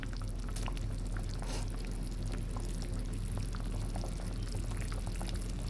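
Pomfret fish curry bubbles vigorously in a pan at a rolling boil, making a continuous close hiss of bursting bubbles and liquid churning, with no talk.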